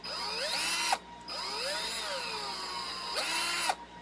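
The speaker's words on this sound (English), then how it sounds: "It spins like a real drill." A variable-speed power drill spins up in two bursts, its motor pitch rising and falling before stopping briefly, then whirring again and cutting out.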